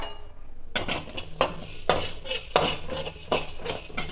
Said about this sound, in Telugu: ఫస్ట్ ధనియాలు, జీలకర్ర, కరివేపాకు ఫ్రై చేసుకుందాం.